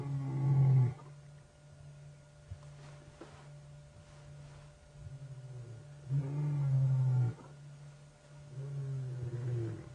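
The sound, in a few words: wild animal roaring on safari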